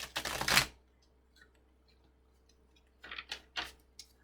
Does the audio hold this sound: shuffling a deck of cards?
yes